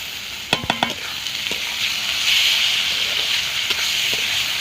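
Onion paste, ginger-garlic paste and tomatoes fry and get stirred in a pan for fish biryani masala, with a steady close hiss and sizzle broken by a few sharp clanks of the spatula early on.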